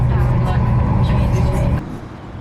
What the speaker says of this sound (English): you can hear a few cars